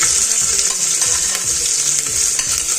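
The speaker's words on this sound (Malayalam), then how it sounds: "ഇത് ചൂടായ ഒരു കുക്കറിലേക്ക് കടുക് താളിച്ച് നമ്മൾ സ്ലൈസ് ചെയ്ത് വെച്ചിരിക്കുന്ന പച്ചക്കറികളെല്ലാം ഒരുമിച്ച് തന്നെ ആഡ് ചെയ്യുക" Mustard seeds and sliced vegetables sizzle and crackle in a hot cooker, a steady close-up hiss of frying that runs throughout with light stirring, no voices.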